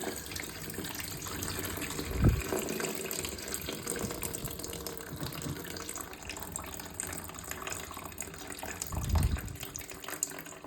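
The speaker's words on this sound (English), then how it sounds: "That's all the excess water in the tank." Leftover water from a toilet tank pours steadily into a bucket during a fill valve replacement, a continuous trickling splash with a couple of louder gushes and no talking.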